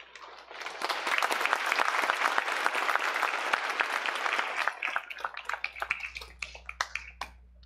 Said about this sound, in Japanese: ご入場の際には拍手をお願いいたします